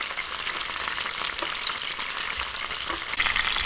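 A whole chicken browning in a frying pan for a pineapple chicken hamonado dish, with a steady, close, hissing sizzle of hot oil throughout and a few small pops and stirring sounds. No one talks.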